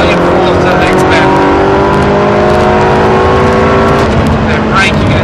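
A Ferrari on the Silverstone circuit accelerates flat out in fourth gear, its engine droning loud and close with a steadily rising pitch, wind and road roar beneath, while someone talks over it.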